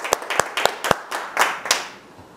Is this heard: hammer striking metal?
no